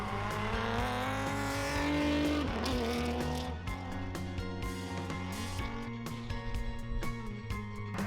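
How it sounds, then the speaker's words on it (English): A Porsche 911 historic rally car drives hard on a British Rally Championship shakedown stage, its engine loud and close, revving and changing pitch continuously with brief tyre noise and no talk. "Next up, Harold Morley in his Porsche 911, which had come out on top in Historic 2 throughout the day."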